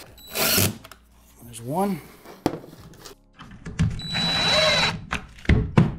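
A power drill driving short screws into an RTA cabinet drawer, several brief whirring bursts with a rising and falling motor pitch, broken by pauses, clicks and a short spoken remark.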